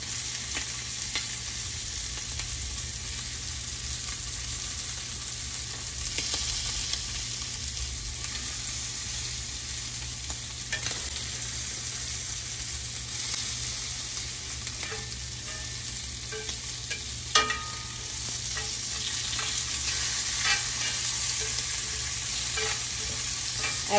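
Shrimp and chicken being seared for blackening in a hot pan make a loud, steady sizzle that runs unbroken throughout, with a few brief clicks and scrapes and no talk.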